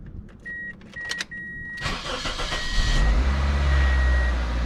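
Dashboard warning chimes ping, the starter cranks briefly, then a 2004 Toyota Corolla LE engine catches and settles into a steady, deep idle rumble up close.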